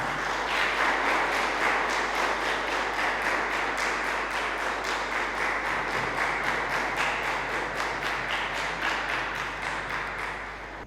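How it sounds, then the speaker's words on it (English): Sustained applause from an audience at a one-day entrepreneurship start-up program at Tura Polytechnic, with dense, steady clapping lasting the full stretch and fading slightly at the end. "Kindly give a round of applause."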